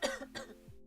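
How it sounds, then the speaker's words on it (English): Two quick coughs from a person who is unwell, fairly close and at moderate volume, followed by a soft throat sound. "Sorry for the coughs."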